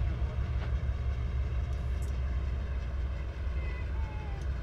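A train simulator locomotive rolls slowly at about 15 mph into a siding at Cajon Pass, giving a continuous low rumble and drone with faint metallic squeals and clicks over it.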